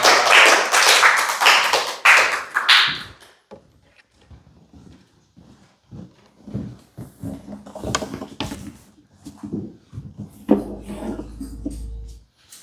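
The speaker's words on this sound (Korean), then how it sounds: "앞으로 나올 때 우리 축복하는 의미로 박수 주시면 감사하겠습니다." A Sunday church congregation claps for a student coming forward: about three seconds of dense, fairly loud group applause that stops abruptly, followed by scattered light taps, knocks and shuffling in a quiet room.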